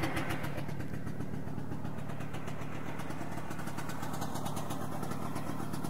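A vintage 1969 Ski-Doo Olympic 320 snowmobile engine runs after a new coil was fitted, idling with a steady, rapid putter of even firing pulses at moderate distance.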